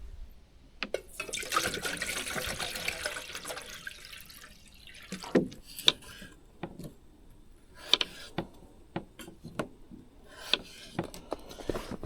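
Water from a tap, running at first as a short rushing stream, then breaking into scattered drips and splashes. It is heard fairly close and quiet, with no voices.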